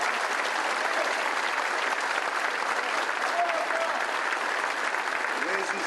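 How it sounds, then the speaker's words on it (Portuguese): Sustained, even applause from a large crowd at a political address in Paraná, Brazil, honoring the state Legislative Assembly, a dense wash of clapping lasting several seconds. "eu peço a vocês uma salva de palmas para a Assembleia, que garantiu a proposta do governo"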